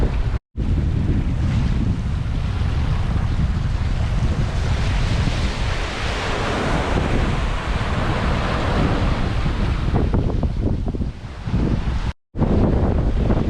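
Strong wind and breaking waves at sea aboard a sailboat in about 25 knots of wind, with two reefs in the main and the headsail out. A loud, continuous roar of wind buffeting the microphone and rushing water, with brief dropouts and no talking.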